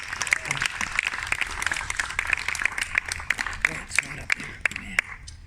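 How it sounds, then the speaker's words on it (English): A crowd applauds after a poetry reading on the opening night of an outdoor poetry-in-the-park event. Many hands clap in a brisk, continuous patter with sharp individual claps standing out, fading at the end. "And Celeste, another round of applause"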